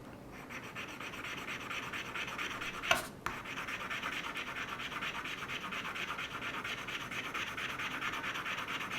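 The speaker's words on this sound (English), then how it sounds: "I'm going to go ahead and rub this piece as well." A piece of jewelry is rubbed in a steady, quiet scratching motion with one sharper scrape partway through, close and soft with no talk.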